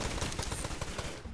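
Rapid gunfire bursts in the pirate video game Blazing Sails, a dense run of close, punchy shots crackling one after another.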